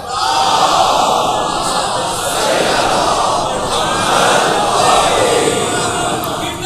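A large crowd recites salawat loudly in unison at a religious gathering, a dense, sustained roar of many voices rising and falling together.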